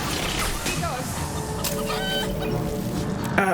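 Chickens cluck and call in Mass Effect 2, a run of bird calls over a steady bed of game noise, moderately loud, with a brief louder burst near the end.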